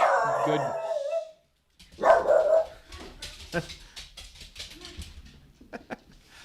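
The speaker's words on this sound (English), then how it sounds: "There's the dogs, vicious killers." Dogs outdoors on New Jersey public land let out two long, wavering howls, then a run of scattered barks and yips. They sound fairly close and carry clearly over the quiet surroundings.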